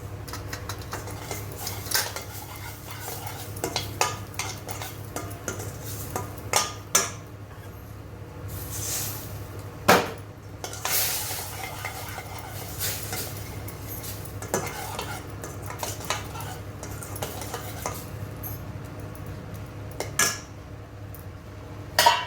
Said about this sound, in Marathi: मसाला चांगला शिजू द्यायचा आहे.